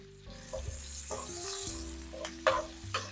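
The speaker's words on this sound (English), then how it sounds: "sauteing it the whole time" Onions and peppers sauté in a pan with a steady sizzle and occasional stirring scrapes, fairly close and moderately loud, with brief clatters of a utensil toward the end.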